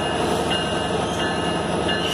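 A Canadian National freight train, locomotive 8879, passes close by at a railroad crossing in Effingham, Illinois, giving a steady, loud rumble of wheels and cars that fills the whole stretch with no break.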